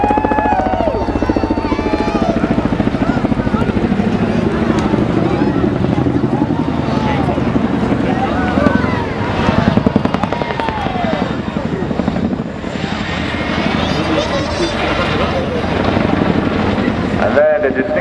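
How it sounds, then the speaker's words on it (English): Chinook tandem-rotor helicopter at an air show, a loud continuous rotor thump and turbine roar holding steady throughout with a slight swell near the middle, while a commentator speaks over it. "Please welcome the mighty Chinook."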